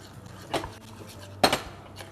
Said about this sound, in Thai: เราก็จะค่อยๆผัดเข้าไปครับ